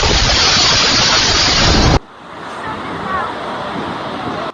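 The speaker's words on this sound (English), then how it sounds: "Powerful waves drove the boat directly onto the rocks." Powerful surf heaving a boat onto rocks: a loud roaring wash of water for two seconds, then a sudden drop to a lower, rumbling churn of waves and wind.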